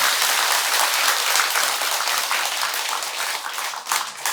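An audience at a Buddhist temple dharma service at Beomeosa claps in dense, sustained applause that fills the space evenly and tapers slightly at the end, without speech.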